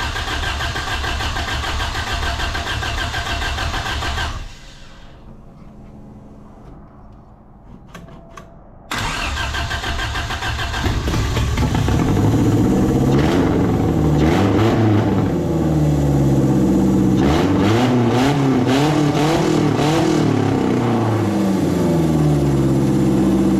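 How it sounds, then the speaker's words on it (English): An abandoned 1979 Toyota Corolla with a swapped engine cranks, goes quiet, then fires up and runs loud and close, with the rough idle rising and falling through several revs. "My Corolla runs!"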